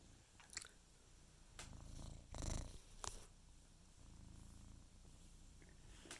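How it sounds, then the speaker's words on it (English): A cat purrs softly and steadily up close, with a few brief rustles and chewing-like noises mixed in. "Don't know if you can hear him purring"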